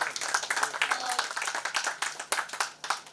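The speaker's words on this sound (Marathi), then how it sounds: "पुन्हा एकदा सगळ्या टीम साठी जोरदार टाळ्या होऊन जाऊ दे." Applause from the audience for the team at a music launch ceremony: dense, rapid clapping from many hands, steady and moderately loud, with voices mixed in.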